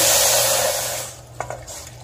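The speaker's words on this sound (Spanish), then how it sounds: "Aquí voy a poner el jugo de manzana." Apple juice poured into a cooking pot for a yogurt gelatin dessert makes a steady, close splashing hiss for about a second, then fades, leaving a few faint clinks and quiet kitchen sounds.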